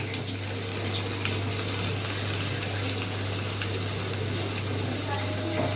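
Tadka of spices with green coriander, red and green chillies sizzles in hot oil for nihari, a dense steady crackling hiss with a low hum beneath, continuous and close.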